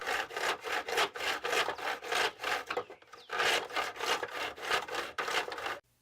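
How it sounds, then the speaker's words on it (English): Three-quarter-inch PVC pipe is cut with a saw in fast, rhythmic back-and-forth strokes, loud and close, with a brief pause midway before the strokes resume and then stop abruptly. "I then took my 3/4 PVC pipe and cut"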